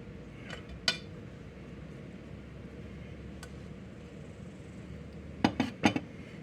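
Hot cast iron skillet being handled in a kitchen while baking cinnamon rolls, giving a few faint metallic clinks and knocks, one early and a quick cluster near the end, over quiet room noise.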